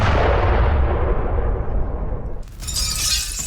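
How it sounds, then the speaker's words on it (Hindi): A drone strike sets off a gas station explosion in Chernihiv, Ukraine: a heavy, loud blast that rumbles and decays over a couple of seconds, followed by a sharp crackle of debris or shattering. "चेर्निहिव में गैस स्टेशन पर ड्रोन अटैक हुआ है। जोरदार धमाके के साथ स्टेशन में विस्फोट हुआ।"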